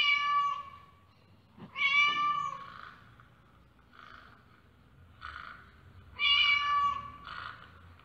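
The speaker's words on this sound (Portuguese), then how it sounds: "Este animal é o gato." A domestic cat meows several times in clear, tonal cries, two long drawn-out calls and shorter ones between brief pauses, close and prominent over a quiet background.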